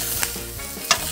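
Zucchini slices fry in olive oil in a pan, giving a steady close sizzle with a couple of brief clinks or stirring bursts as the pieces are flipped.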